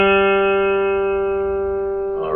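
The open third (G) string of a guitar is plucked during tuning, ringing as one sustained bright note with rich overtones that slowly fades, with a faint touch at the very end.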